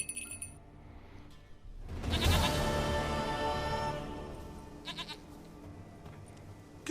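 A goat bleats once in The Witcher 3, a loud, drawn-out wavering cry lasting about two seconds over faint game ambience, with light clinking sounds before and after.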